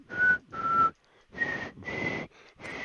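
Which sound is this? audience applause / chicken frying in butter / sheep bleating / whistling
whistling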